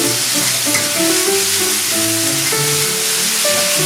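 Chicken fries with salt and chili in a hot pan, a continuous loud sizzle with stirring and scraping throughout and no talking.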